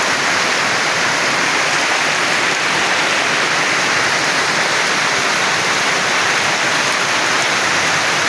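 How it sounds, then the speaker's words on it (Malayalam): Heavy rain pours down in a loud, dense, unbroken roar that holds steady throughout, with no voices over it. "എന്താണെങ്കിലും നല്ല മഴയാണ്"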